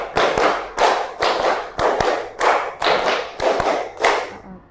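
Children clapping in unison during a classroom clapping game, a series of about eight sharp, rhythmic bursts of rapid claps separated by short pauses, close and lively with no talking.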